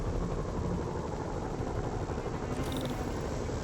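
A helicopter in the video game Marvel's Spider-Man Remastered whirs steadily at close range, and a constant broadband drone holds through the whole stretch with no voices over it.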